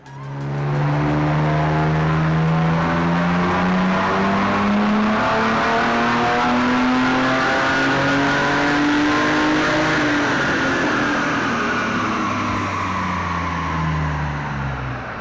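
Engine of a Nissan Skyline R31 revving hard on a run without nitrous, climbing steadily in pitch for about ten seconds before dropping off, loud, close and continuous with no talking.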